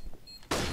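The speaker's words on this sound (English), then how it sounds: "Throwing a grenade. Flashbang." Flashbang grenade in the CS:GO video game going off with a sudden loud burst after a brief quiet moment, the blast sound sustained to the end.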